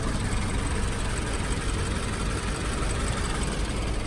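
A 1999 Nissan Patrol engine runs with a constant, dense, rough mechanical roar close by and no clear rise in pitch.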